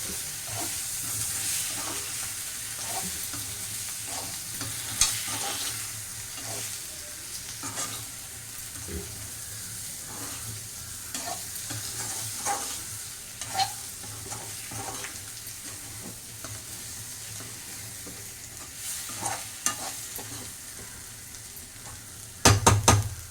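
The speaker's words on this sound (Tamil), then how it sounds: "நம்ம ஊற்றுற எண்ணெயிலே தான் வறுக்கணும்" Steady sizzling and hissing of plantain frying in hot oil, with small pops and crackles throughout and a few clinks near the end.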